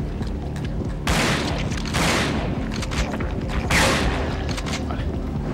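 Three heavy shotgun blasts boom in succession in Resident Evil Dead Aim on PS2, each followed by a noisy roar, against a dense game background.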